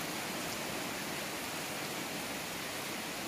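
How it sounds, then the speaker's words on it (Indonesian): Rain falls steadily on potted bonsai trees and ornamental plants, a dense, even hiss with no breaks and no voices. "Kebetulan ini pas lagi turun hujan, jadi nggak usah nyirami, biar tanaman bonsai ini jadi segar."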